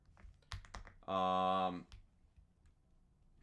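Computer keyboard keys click in a quick burst of shortcut presses for switching and closing browser tabs, close and crisp, with a short buzzing tone in the middle.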